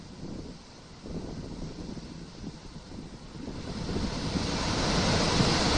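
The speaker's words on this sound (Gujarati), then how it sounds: "ભારે વરસાદના કારણે નદીઓ બે કાંઠે વહી રહી છે" Floodwater rushes from rivers overflowing after heavy rain, a dense, continuous roar that swells louder toward the end, with no voices.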